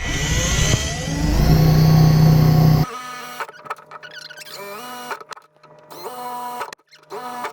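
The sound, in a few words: drilling a hole in a kayak with a 3/16 inch drill bit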